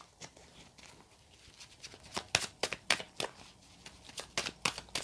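Tarot cards shuffled by hand give a run of crisp, riffling card flicks, irregular at first and then quicker and denser, close and fairly quiet, with no voice.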